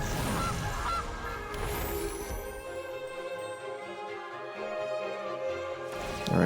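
Honking goose calls from the Gilded Goose card being played in the MTG Arena digital card game, a few loud squawks at the start and end over a steady ambient game background.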